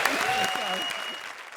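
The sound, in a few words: audience applause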